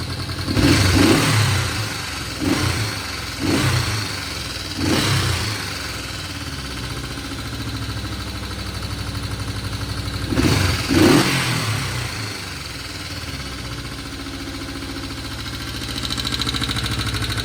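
A Honda CB350 twin motorcycle engine idles steadily near 1100 rpm, then gets several short throttle blips, with revs rising and quickly falling back each time, loud and close, with no speech.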